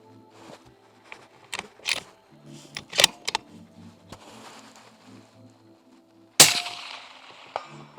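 Rifle fired at a long-range target around 273 yards during a ballistics run with a hybrid thermal riflescope; one sharp, loud report rings out past the six-second mark, preceded by quieter clicks and handling noises.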